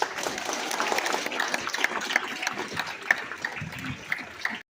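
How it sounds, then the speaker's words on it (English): An audience claps in sustained applause for several seconds, dense and even, before it cuts off abruptly. "give yourself a round of applause"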